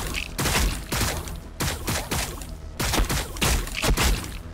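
Gunfire from the Warhammer 40k Battlesector video game, arriving as repeated loud bursts of shots and impacts in roughly three volleys, with brief gaps between them.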